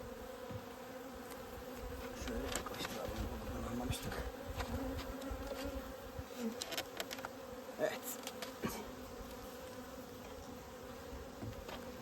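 Carnica honey bees hum steadily around an open hive in early November, a dense, continuous buzz of many insects close by, with faint handling sounds of the frames and no speech.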